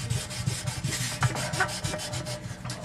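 Steady rhythmic scrubbing of 1000 grit sandpaper over an acrylic panel being smoothed around a repaired crack, close and continuous with repeated short back-and-forth strokes and no talk.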